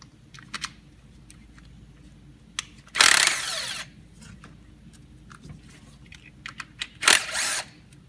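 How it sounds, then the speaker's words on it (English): A power tool whirs in two short bursts while removing coil pack bolts on a Silverado engine, with light metallic clicks and handling noises between them. "And then let's go ahead and remove the bolts."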